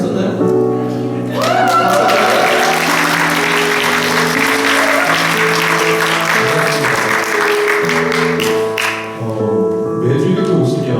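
A church congregation applauds loudly during a Sunday service, a dense burst of clapping that lasts several seconds, briefly dips, then swells again.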